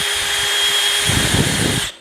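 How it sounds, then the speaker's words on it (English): A power drill whines steadily, and after about a second a wire brush on it grinds in beneath, roughly scrubbing epoxy from a golf iron's hosel, stopping abruptly near the end. "go in there with your wire brush on your drill"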